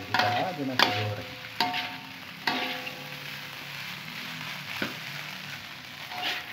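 Nasi goreng is stir-fried in a pan, a steady sizzle broken by several sharp clanks of a utensil striking the pan at irregular intervals, close and alone.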